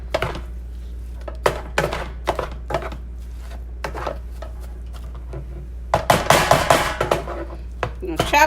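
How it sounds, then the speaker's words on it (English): A knife chops peppers on a cutting board for Philly cheesesteak sliders, giving a run of sharp, close, fast chops in bursts, with a denser flurry near the end. "I'm gonna chop these up."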